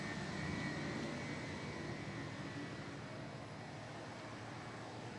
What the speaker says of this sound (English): Now let me show you guys our generators.